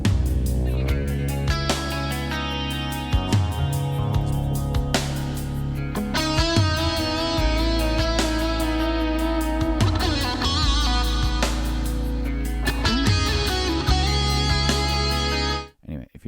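A song, blues-style electric guitar lead over band backing with steady beat, loud and continuous before cutting off at the end, no talking.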